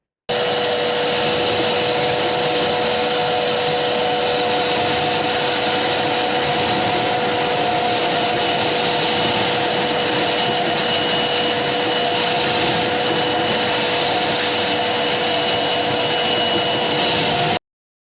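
A drain jetting or suction machine runs continuously through a hose held sealed against a pipe to clear a blockage, a loud steady motor whine and rush lasting the whole clip with no speech.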